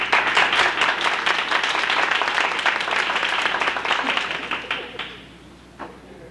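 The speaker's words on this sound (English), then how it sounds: "So I'd like to first give them a round of applause" An audience at a 1988 high school athletic banquet gives a round of applause for a team, loud sustained clapping that fades out near the end, followed by a few scattered claps.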